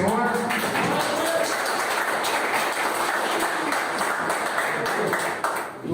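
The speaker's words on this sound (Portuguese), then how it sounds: "Pode aplaudir ao Senhor." A church congregation applauds together during a Portuguese-language worship service, a dense, steady wash of many hands clapping that fills the room and thins out right at the end.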